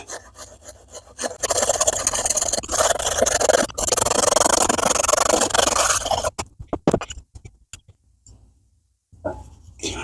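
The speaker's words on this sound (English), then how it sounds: "So I'm going to just do my best to clean that gunk out." Close, loud scrubbing and rasping on a pitted, gunk-coated metal part from a vintage Optimus 8R stove, a steady dense burst for several seconds that pauses briefly, then tails off into short scratches and near silence.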